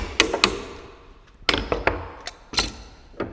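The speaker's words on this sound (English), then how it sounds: "get a different kind of hammer, and then like a metal hammer, and then tap the pliers" A metal hammer taps pliers clamped in a vise to pull a wooden dowel from a nightstand webframe, giving sharp metallic knocks in irregular groups of two and three, close and loud, with no talking.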